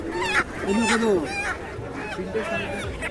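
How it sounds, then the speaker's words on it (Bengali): Geese honk repeatedly and loudly up close at the Krishnanagar market, with some duck-like calls and voices mixed in the background. "খুব ভালো ভালো হাঁস আছে এখানে এখানে কিছু রাজহাঁস আছে"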